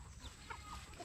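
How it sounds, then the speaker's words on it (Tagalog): A Dong Tao chicken, the dragon feet breed, gives soft, faint clucks, a couple of short low calls close together. "ang ating manok na Dong Tao"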